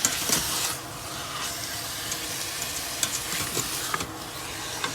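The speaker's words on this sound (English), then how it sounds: "Now in goes my tomato paste. And I'm gonna mix it in well." Tomato paste being mixed into a sizzling pan of beef for a squash and beef dish, a continuous close frying hiss broken by scraping stirs and light utensil taps, no voices.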